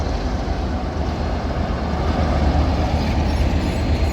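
Class 47 diesel locomotive 47848 hauling intercity coaches passes close by at London Victoria, a continuous loud rumble of engine and wheels on track that swells slightly toward the end.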